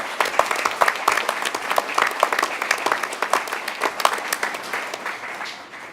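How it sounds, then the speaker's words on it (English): A crowd applauds steadily for several seconds, dense clapping that holds its strength before tapering slightly at the end. "I'd like you to applaud her"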